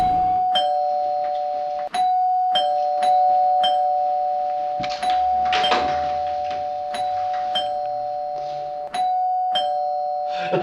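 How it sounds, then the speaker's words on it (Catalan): A doorbell rings with a sustained electronic tone and sharp repeated chimes, heard fairly close in a quiet room. "timbre"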